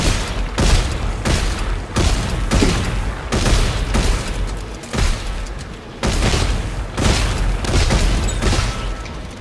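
Sustained heavy weapon fire in the video game Dead Space 3, loud rhythmic bursts repeating roughly every second for the whole stretch with no pauses in the barrage.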